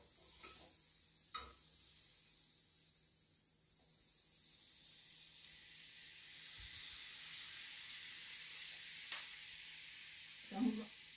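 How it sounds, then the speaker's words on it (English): A tablespoon of butter melts in a preheated pot at the start of cooking old-school Jamaican tin mackerel, giving a faint, steady sizzle and hiss with a few soft stirring knocks and no talk. "I preheat my pot as you can see, and I'm using 1 tablespoon of butter"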